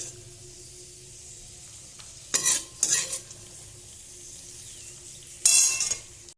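Fried items are lifted and stirred into jaggery payesh, with a soft background hiss broken by a few short bursts of scraping and stirring, two close together early and one more near the end.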